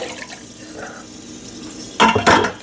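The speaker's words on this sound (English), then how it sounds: "I'll dump my water again." Water from a container is dumped into a bathroom sink during a faucet installation, giving a short loud splash and gush near the end after quiet room tone.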